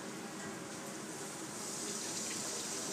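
Tap water runs steadily into a kitchen sink as rice is gently rinsed, a continuous close splashing wash with no voices over it.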